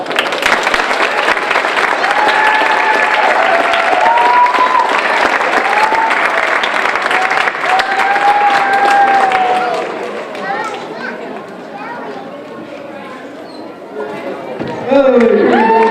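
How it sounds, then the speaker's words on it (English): A lecture-hall audience at a chemistry magic show breaks into loud, sustained applause, dense clapping with some cheers for about ten seconds, then fading into scattered claps and murmuring voices. "Let's tell them how appreciative we are with a big round of applause"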